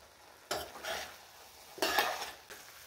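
Wilted fenugreek (methi) leaves cooking in a pan are stirred in two distinct bursts of scraping and rustling over a faint sizzle, with a quieter third stir at the end.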